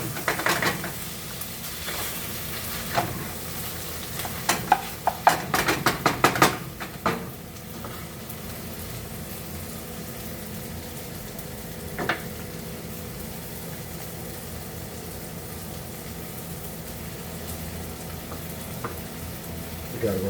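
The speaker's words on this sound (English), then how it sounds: "Stir that up. You gotta stir it up." Pastaliya sizzling and frying in a pan while being stirred, a steady close sizzle with bursts of scraping and clinking in the first seconds, then a quieter continuous fry.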